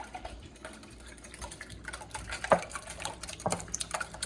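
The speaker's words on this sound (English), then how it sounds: "So I'm just kind of whisking all this together like so." A whisk beats smoked salmon quiche filling in a bowl, producing irregular light clicks and taps against the sides, with a few sharper knocks standing out.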